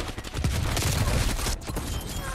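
Dense gunfire from Call of Duty Cold War, with a Milano 821 SMG loadout in play: a loud continuous fusillade of overlapping shots filling the whole stretch, with a brief dip partway through before the firing resumes.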